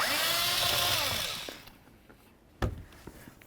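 A power tool spins out an 8mm bolt from the blower motor of a 2008 Ford Explorer, a close, loud whirring burst that winds down after about a second and a half, followed by a sharp metallic clunk.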